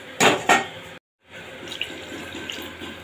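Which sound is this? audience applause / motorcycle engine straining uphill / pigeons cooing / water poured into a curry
water poured into a curry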